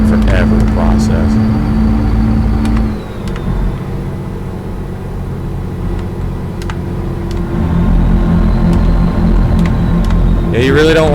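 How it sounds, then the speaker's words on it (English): A Detroit diesel truck engine in American Truck Simulator drones steadily at low RPM, a loud continuous rumble that dips briefly partway through and carries on under quiet talk. "you really don't want to run these Detroit diesels at low RPM like that"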